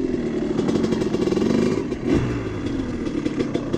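A Honda CR250 dirt bike being ridden and braked repeatedly to heat up new brake pads, its two-stroke engine droning steadily nearby with a brief dip and surge partway through and some rattling clatter.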